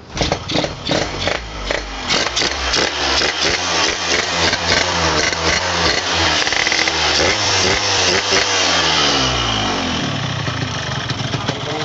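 A Yamaha RX King two-stroke motorcycle engine sputters and revs, crackling and buzzing loudly up close, rising in pitch as the throttle opens.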